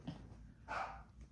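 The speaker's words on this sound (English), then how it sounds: "If you hear the dog barking" A dog gives two short, muffled barks from another room, faint and distant in a quiet indoor space.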